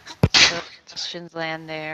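A single sharp sneeze bursts out near the start during a meeting, loud and close, followed directly by a person speaking.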